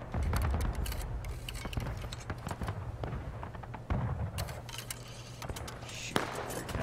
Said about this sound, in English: Artillery is really close to us.